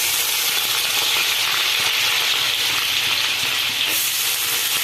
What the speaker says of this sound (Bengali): আমি সবগুলো ঘি দিয়েই ভাজবো